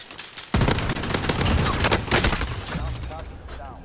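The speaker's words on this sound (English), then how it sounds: "Oh, I'm getting sniped." Rapid gunfire from a squad-based shooter video game, a dense volley of loud, sustained shots that keeps going for several seconds, with voices talking faintly underneath.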